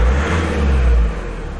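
A car engine revving as the gas pedal is pressed, a steady low mechanical drone that swells briefly then eases back, close and loud with no talk.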